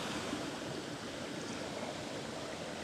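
Creek water flows in a steady, unbroken rush where an outside stream of water enters the creek, heard up close and alone with no talking.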